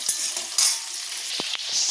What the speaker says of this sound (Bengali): আলুটা ভাজছি এখন